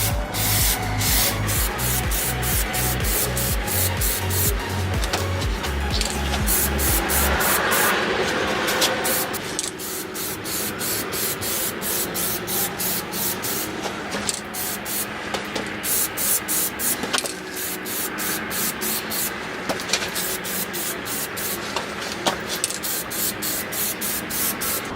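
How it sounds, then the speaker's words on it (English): Continuous hissing of Plasti Dip aerosol spray coating a motorcycle helmet runs close up for a long stretch, with a brief pause and a slight change partway through, no talking. "Starting spraying when I'm off of the helmet so I don't get that initial goop."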